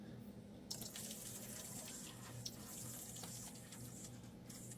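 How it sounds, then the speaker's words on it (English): Molten silver, about 97 to 98 percent pure, is poured into a bucket of cold water to form shot, starting with a sudden hiss and continuing as a steady fizzing rush with small crackles, close and without talk. "let's pour this into some cold water here, and we'll turn it into some shot"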